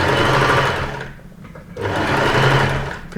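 Sewing machine stitching a seam on a Hawaiian style shirt, loud and close, running steadily, easing off for a moment, then speeding back up.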